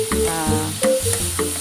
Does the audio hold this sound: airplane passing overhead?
no